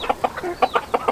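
Chickens clucking close by in a quick, steady series of short calls, with no talking, on a farm with geese and Muscovy ducks.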